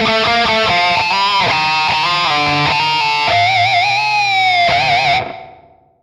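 An electric guitar through the Deep C reverb of a Valeton GP200 LT processor plays a lively phrase of picked notes, then long chorused, cavernous chords that swell and decay into a washy tail, with no one talking over it.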